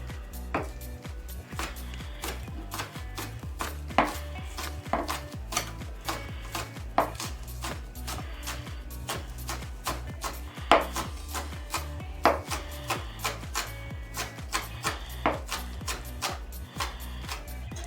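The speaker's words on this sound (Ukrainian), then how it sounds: "Далі нарізаємо цибулю. Нарізаємо її під кутом." A kitchen knife chops onion at an angle on a board for corn fritters, with steady, close, crisp knocks repeating in quick rhythm throughout, without any voice.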